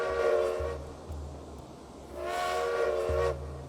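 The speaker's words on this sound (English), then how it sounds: "whistle almost sounds like the standard go-to whistle sound effect" A steam train whistle in the video game Railway Empire sounds in two long, bright blasts separated by a short pause, with a low rumble underneath.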